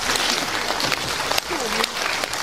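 Audience at a mime show applauding, a dense steady wash of clapping filling the room with a few sharper claps standing out, and voices faintly under it.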